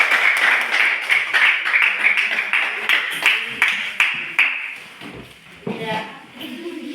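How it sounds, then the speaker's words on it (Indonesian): In a classroom, students clap for a group that has just presented. The applause comes in rhythmic bursts and fades out, followed by a voice speaking. "Tepuk tangan untuk kelompok 2."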